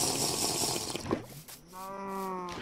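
A Minecraft cow lets out a single drawn-out moo near the end, following a burst of clattering game noise.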